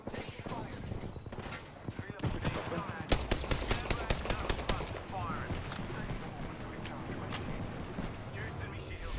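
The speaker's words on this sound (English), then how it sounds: "I am taking fire." Rapid bursts of automatic gunfire crackle in a shooter video game, dense repeated shots sustained throughout over busy game effects and music.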